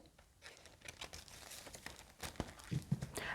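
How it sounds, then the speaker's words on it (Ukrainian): Paper referral slipped into a plastic bag or file sleeve, a steady close crinkling and rustling of thin plastic lasting a few seconds, with no talk. "Направлення поміщаю у поліетиленовий пакет або файл."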